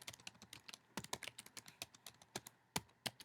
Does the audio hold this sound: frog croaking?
no